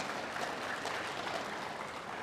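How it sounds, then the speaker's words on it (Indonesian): Applause from a church congregation during a sermon, a steady, even patter of many hands that stays faint and distant throughout. "amen tepuk tangan tu hita saluhna"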